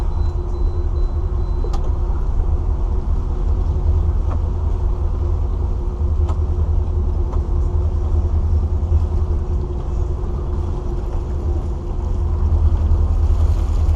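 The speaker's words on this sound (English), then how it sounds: "I'm at an idle speed through the marina." A motorboat engine idles steadily through a marina, a continuous low throbbing rumble with no talk over it.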